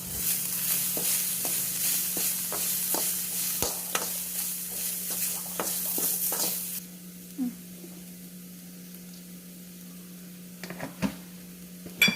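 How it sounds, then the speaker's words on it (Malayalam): A spoon stirs ground black pepper and chili powder into a chicken and potato cutlet mixture in a hot pan, scraping in quick repeated strokes over a soft sizzle. The strokes stop partway through, leaving quiet with a few faint knocks. "കുരുമുളക് പൊടി, മുളക് പൊടി തുടങ്ങിയവയിട്ട് നന്നായി ഇളക്കിയെടുക്കണം"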